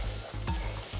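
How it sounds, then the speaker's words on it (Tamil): Chopped tomatoes, four medium ones, sautéing with onions in a pan for a fish curry: a continuous sizzle broken by rhythmic scraping strokes of a spatula stirring, close and fairly loud. "இப்போ 4 மீடியம் சைஸ் தக்காளி நறுக்கினது சேர்த்து வதக்குங்க"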